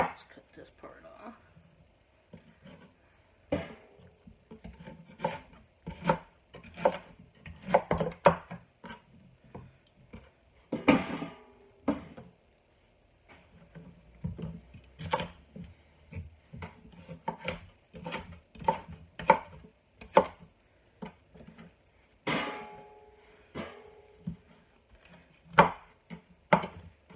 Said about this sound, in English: anytime you're chopping up vegetables